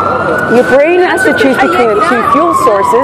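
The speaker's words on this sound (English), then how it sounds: "oh, I've got fire engine going by." A fire engine siren wails steadily as it passes close by, loud and slowly falling in pitch, under continuous talking.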